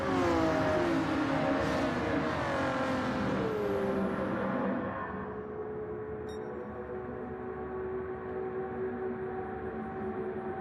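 Race cars including a GT-R and a Lamborghini compete in a Gran Turismo 7 race, engines revving loudly with rising and falling pitch, then settling into a quieter steady drone as the cars pull away.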